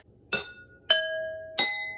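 Three struck water-tuned glass cups ring out in sequence, each bright and sustained, their notes overlapping to form a sub-minor chord, close and clear.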